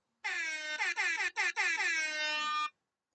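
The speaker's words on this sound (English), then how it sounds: "Does it deserve the air horn?" An air horn sound effect blares loud and close for about two and a half seconds, a harsh brassy blast broken into several quick stuttering pulses, with nothing else around it.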